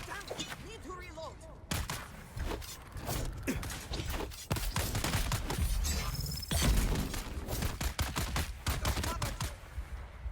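Gunfire in the video game Dune Awakening comes as dense, rapid bursts of sharp shots and clicking weapon mechanisms, loud and almost continuous, with a person talking over the action.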